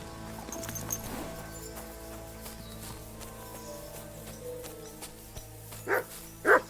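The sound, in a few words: horse in a video game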